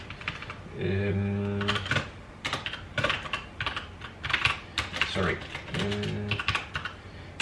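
Fingers tap out a command on a computer keyboard in a terminal, a close, quick patter of clicks broken by short voiced sounds.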